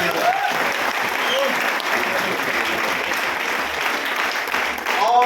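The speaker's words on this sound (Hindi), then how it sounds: "तो एक बार हम चाहेंगे मिस्टर तन्मय सर के लिए जोरदार ताली।" An audience at a gathering breaks into loud, sustained applause, dense clapping that holds steady for several seconds and swells slightly near the end.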